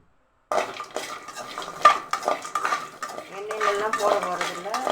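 Garlic is sautéed in a pan for pirandai podi. After a brief silence, busy close stirring follows, with metallic clinks and scrapes of utensil against pan over a light frying hiss and no talking.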